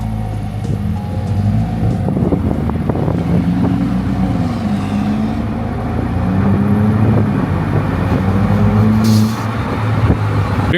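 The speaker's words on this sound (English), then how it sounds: "I like those intake noises as well" A car engine with audible intake noise, loud and close, with droning harmonics that rise and fall as the revs change over several seconds. No one speaks.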